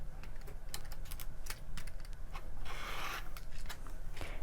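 Quilt fabric is cut along a ruler with a run of short, close, crisp cutting and scraping strokes, ending in a brighter rasping cut, with no talk.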